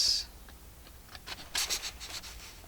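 Scissors cutting paper for an envelope-style journal, a short, soft, scratchy run of snips and rustles, close and fairly quiet with no talking.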